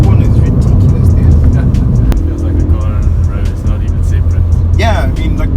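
A Ford Fiesta ST is driven hard through a turn, its engine a steady loud drone inside the cabin with tyre and road noise, while people talk over it.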